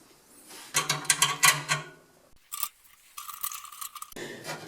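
Nuts and bolts being threaded and tightened back onto a temperature probe sensor mount on a Pit Boss pellet grill, with several close metallic clicks, scrapes and rattles in short bursts separated by brief pauses.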